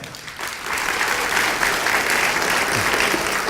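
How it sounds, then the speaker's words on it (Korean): A church congregation breaks into steady, dense applause that swells quickly and holds loud and even throughout. "박수 주세요."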